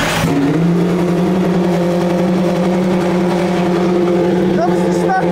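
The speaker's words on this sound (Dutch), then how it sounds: "Dat is de startmotor. Besef dat, een externe startmotor." A race car at a circuit track, started with an external starter motor, runs with a loud, steady droning engine note that holds close and constant, with a brief rising whine near the end.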